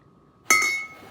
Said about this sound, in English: Here is a glass.